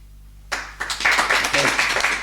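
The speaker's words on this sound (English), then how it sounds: "I will savour this applause for a long time." Silence breaks into a burst of clapping that swells into steady applause from a small crowd.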